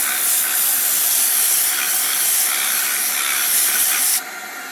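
Cleaning chemical sprayed from a detailing machine onto a car's interior, a loud continuous hiss that holds steady for about four seconds and then drops off abruptly.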